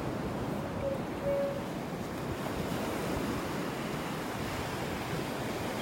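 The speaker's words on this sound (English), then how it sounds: "out where all the waves are kind of crashing on the shore" Ocean waves washing onto the shore at a beach in North Naples, Florida, a steady broad roar of surf with wind buffeting the microphone, continuous and fairly loud.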